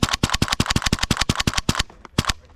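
Airsoft SCAR-L gas blowback rifle firing a rapid full-auto burst of about fifteen sharp cracks, loud and close, then a short pause and a few scattered single shots.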